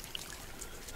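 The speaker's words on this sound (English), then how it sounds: "That's probably why we got water sound." Water trickling and pouring inside an underwater biodome base in No Man's Sky, where a leak is present; a steady, close, hissing wash of flowing water runs for about a second.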